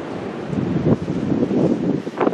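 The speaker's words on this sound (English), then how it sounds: "Yes, the leaves are blowing off the trees with that wind." Strong wind blows outside during a high wind advisory, gusting at around 30 to 50 miles per hour, a loud, buffeting rumble against the microphone that swells and eases, with leaves rustling.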